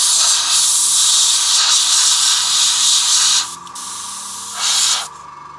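Steady hiss of an aerosol primer can spraying continuously over miniatures, pausing briefly near the end before a short final burst.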